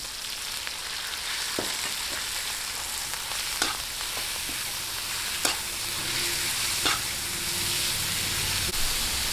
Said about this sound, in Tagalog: habang ginigisa po natin